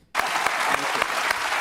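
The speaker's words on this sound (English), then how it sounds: "Why are they clapping for," Studio audience applause on a daytime talk show, dense steady clapping that starts abruptly after a brief silence and stays loud and even throughout, with no one talking over it.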